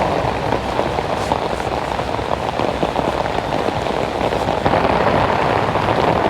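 Heavy rain pours steadily and loudly onto surfaces around a home yard, a dense continuous hiss with no break and no voices.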